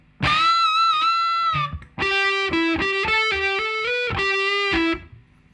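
A short distorted electric guitar lead phrase from a song, with bends and quick note runs, played loud and clear, then a brief pause before a repeated rhythmic figure.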